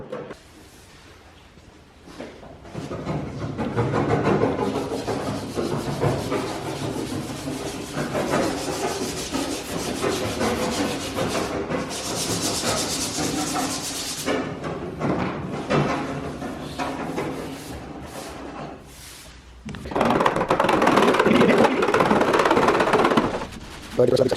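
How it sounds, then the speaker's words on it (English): Old paint being scraped off the body of a 1968 Camaro: continuous close rasping and scratching with busy, uneven strokes, partly under speech, with a louder, harsher stretch near the end. "scraping all this stuff off because it was just floating"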